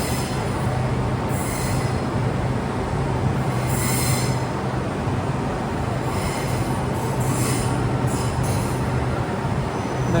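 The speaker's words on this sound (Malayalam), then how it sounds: "ഇതാ ട്രെയിൻ എടുത്തു" A Malaysian jungle train pulls out of Wakaf Bharu station on the Johor Bahru to Tumpat line, a steady rumbling roar with faint wheel squeals rising now and then, close and continuous throughout.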